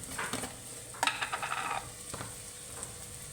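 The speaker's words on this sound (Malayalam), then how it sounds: "നന്നായിട്ടൊന്ന് ഇളക്കി കൊടുക്കട്ടെ" Chicken curry being stirred in a pan after coriander powder goes in, with soft scraping and a low sizzle. The spoon strokes come in short bursts near the mic, with no talking.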